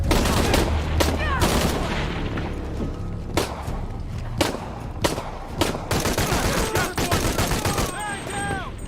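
Heavy automatic gunfire in the action game Shadow of the Tomb Raider crackles in sustained loud bursts with sharp single cracks mixed in, amid combat noise and shouted voices.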